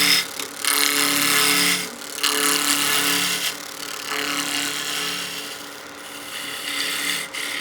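A skew chisel making peel cuts on wood spinning on a lathe, taking a blank down to round: a loud, continuous rasping shave in long sweeps with brief lifts between passes, close up, with no talking.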